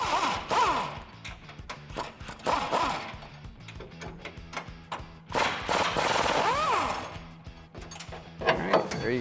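An impact wrench or ratchet rattles in repeated bursts while removing the factory rear shock bolt on a 2009-2018 Ram 1500, loud and close, with short pauses between runs.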